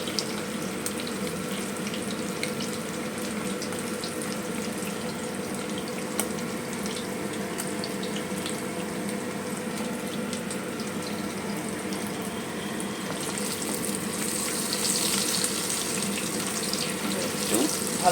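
Boiled potatoes fry in hot oil with turmeric for an egg curry, giving a steady, even sizzling hiss that swells slightly near the end.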